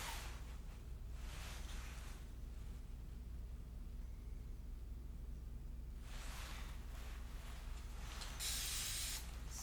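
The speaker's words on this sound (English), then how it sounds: "Spray the canvas panel." Aerosol spray paint hissing onto a canvas panel, heard as a few separate bursts of broadband hiss, with a longer burst near the start and a strong, close blast at the end over a steady low background hum.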